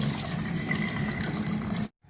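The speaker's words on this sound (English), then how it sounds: "pour in the mixture, add the water which we kept aside" Water poured into a pan holding a tomato soup mixture makes a steady splashing, gushing fill for nearly two seconds, close and alone, then stops abruptly.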